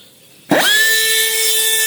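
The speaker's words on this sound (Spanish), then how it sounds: "He puesto esta pequeña fresa que come muy bien y voy a hacer todos los agujeros ya con ella" A small rotary burr bites into a piece of alabaster. The tool whirs up suddenly from quiet into a loud, steady high-pitched whine that holds for about a second and a half.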